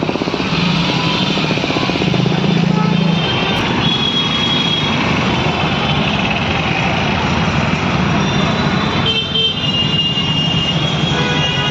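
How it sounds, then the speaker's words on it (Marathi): Jammed road traffic at a closed railway crossing in Mothagaon, Dombivli: a loud, unbroken rumble of idling and creeping engines that fills the whole stretch with little change. "गाडी चालत नाही एवढी जाम ट्रॅफिक आहे बघा"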